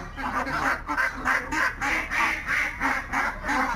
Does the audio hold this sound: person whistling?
no